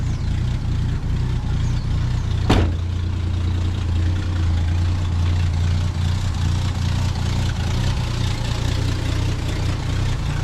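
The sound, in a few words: 1965 Ford Falcon engine idling after starting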